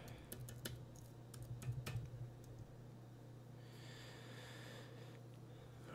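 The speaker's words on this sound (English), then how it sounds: "I'm going to type in my super secret password here" A computer keyboard clicks as a password is typed, a few quick light keystrokes early on over a steady low electrical hum, then only the hum and faint background noise remain.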